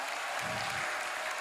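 A church congregation applauding during a worship service, a dense, steady wash of clapping from many hands heard briefly.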